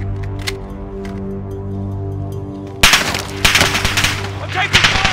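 Gunfire in a battle royale video game: a quiet stretch with a steady low hum and a single sharp shot, then loud bursts of rapid automatic fire crackle in clusters close by.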